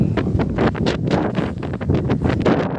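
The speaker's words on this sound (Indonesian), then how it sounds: "terpa angin kencang." Strong wind batters the microphone at the Nusantara harbour in Parepare, Indonesia, a loud continuous rumbling buffet with rapid gusty pulses throughout and no voices.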